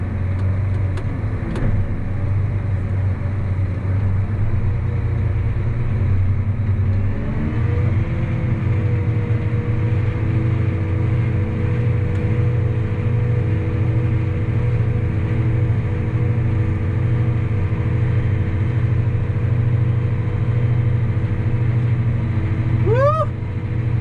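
A tractor engine running steadily in first gear during a peanut harvest, a constant low droning hum at close range that holds level throughout, with a faint squeak near the end.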